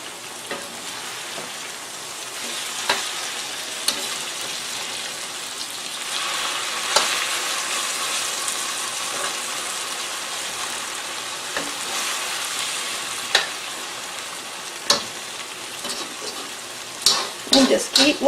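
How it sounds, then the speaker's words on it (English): Okra frying in Crisco in a pan on a stove gives a continuous close sizzle and crackle for a long stretch, with sharp spatula scrapes and taps, louder clattering stirs near the end. "And just keep letting it fry."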